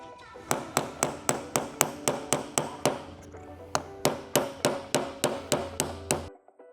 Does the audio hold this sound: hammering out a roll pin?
yes